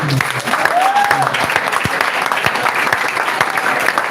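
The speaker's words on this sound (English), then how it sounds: "So secondly, let me clap for Sojourn for everything." Loud, sustained audience applause at a talk with past students, a dense wash of clapping filling the whole stretch, with a faint voice or whistle-like tone briefly rising over it.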